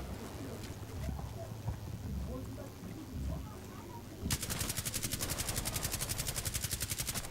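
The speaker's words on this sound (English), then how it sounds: "Why are you still shooting?" Soft talking and faint background noise give way to a fast, steady stream of automatic gunfire in Rainbow Six Siege, rattling continuously and evenly to the end.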